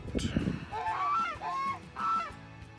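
Nearby waterfowl honk and quack in a few loud drawn-out calls, with some scuffling noise at the start.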